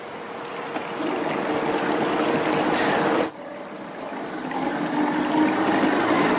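Gold panning spiral wheel running with water, a steady close rushing and splashing wash that dips briefly midway before resuming at full strength.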